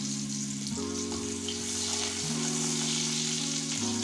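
Chopped onions sizzle steadily in hot oil with garlic and curry leaves for homemade noodles, a constant close frying hiss that continues under background music, with no voices.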